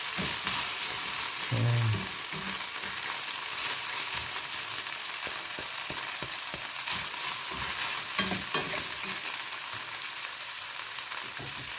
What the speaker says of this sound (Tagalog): So, haluin na natin siya, no?